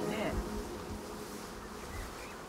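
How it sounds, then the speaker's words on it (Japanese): Honeybees swarm around brightly painted hives at a Slovenian apiary, a dense, steady buzzing hum from many insects close and all around, holding constant for the whole stretch with no talk over it. "すごいブーンブーンってあちらこちらから聞こえてきます。"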